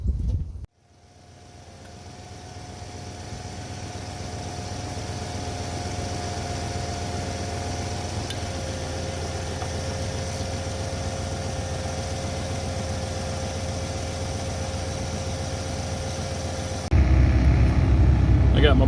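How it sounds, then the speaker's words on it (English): A 1994-96 Cadillac Fleetwood engine starting up and then idling at a steady, even drone for most of the stretch, with a louder burst of sound near the end. "We're going to fire it up, let it run until we see coolant come out of there"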